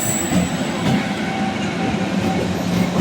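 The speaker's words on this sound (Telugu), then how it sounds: "ప్యాసింజర్ ట్రైన్ అయితే బయలుదేరిపోతుంది" A MEMU passenger train departs and rumbles steadily along, wheels clattering on the rails with a faint metallic squeal, loud and close throughout.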